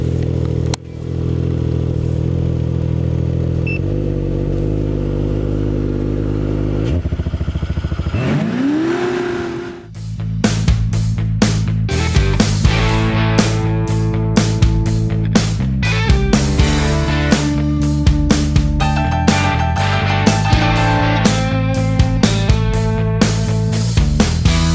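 Ski-Doo Mach Z 900 ACE Turbo R 2022 snowmobile idling loudly, then a sharp rev and launch-control start into hard acceleration, followed by close, rapid engine pulses and clattering bursts as it pulls away.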